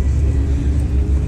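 A Dodge Hellcat drop-top engine idles at a car meet, a steady loud low rumble with a pulsing throb that holds through the whole moment.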